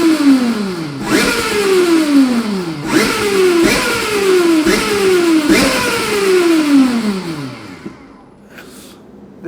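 A 900+ Nm modified Citroën-style Super Ami car engine revs hard in repeated rising pulls, each climbing in pitch then dropping as it shifts, loud and close, with no talking.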